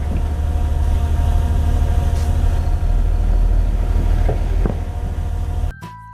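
A sand-hauling dump truck with air brakes rumbles loudly and steadily close by, a deep engine drone with brief hisses and squeals near the end before the noise cuts off abruptly.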